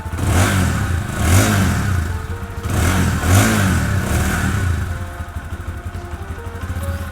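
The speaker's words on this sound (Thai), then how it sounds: "มาฟังเสียงท่อเดิมกันเลยดีกว่านะครับ อ่าสตาร์ทติดทีเดียวรู้เรื่องเลยนะครับผม" A GPX Demon GR200R motorcycle from 2021/22 on its stock exhaust, running close by with repeated throttle revs that rise and fall in loud pulses, then settle to a steady idle.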